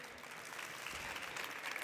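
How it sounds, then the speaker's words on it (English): Steady applause from a conference audience, a dense wash of clapping held at an even level throughout, fairly distant. "Please give applause for Sasho and the people in our factory."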